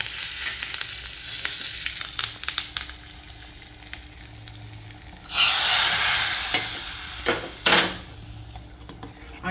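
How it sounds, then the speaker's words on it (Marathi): Mustard seeds, asafoetida and curry leaves hit hot oil for a sambhar tempering, giving a loud, close burst of sizzling and hissing midway through, after quieter kitchen clatter and stirring, then settling with a second brief flare. "तेल तापलेलं आहे, त्याच्यात पहिले जाईल मोहरी, मग चवीपुरतं हिंग"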